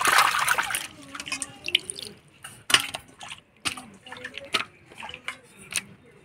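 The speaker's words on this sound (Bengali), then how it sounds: "মাছগুলো ভালো করে লবণ দিয়ে ঘষে নিলাম, এবার ধুয়ে নিব।" Salt-rubbed live stinging catfish rinsed in water in a home kitchen, with splashes and dripping, sloshing bursts at irregular intervals, close by and fairly quiet.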